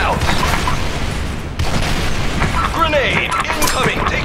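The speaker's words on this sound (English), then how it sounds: "Fire in the hole. Frag out." Grenade blasts and steady gunfire from the online shooter Special Force 2 rumble loudly and continuously, with a sharp crack partway through and game voices shouting over the battle.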